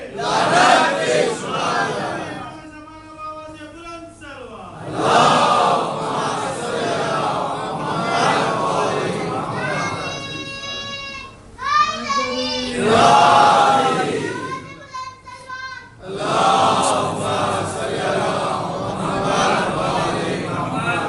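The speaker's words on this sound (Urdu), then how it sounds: "نعرے حیدری لگیں گے تو سب یالی بولیں گے" A crowd at a Shia majlis gathering for Ayyam-e-Fatimiya loudly chants the Nara-e-Haidari slogan and answers with a massed shout of Ya Ali. The call and response repeats several times in loud, overlapping bursts of many voices.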